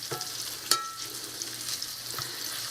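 Smoked sausage browns in bacon grease in a skillet, a steady close sizzle with a sharp spatter pop early on and occasional light stirring scrapes.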